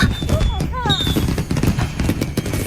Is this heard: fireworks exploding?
yes